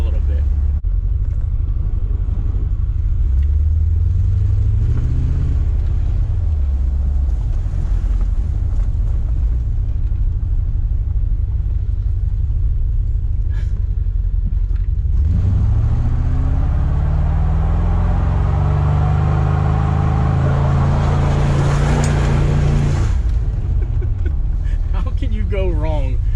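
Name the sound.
$300 Corvette engine revving during smoky burnout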